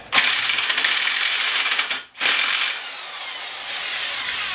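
Close, steady ratcheting clicks from a wrench during clutch removal on a 1997 Polaris Sportsman ATV, running in a fast burst, breaking briefly near the middle, then resuming more softly, with no voices.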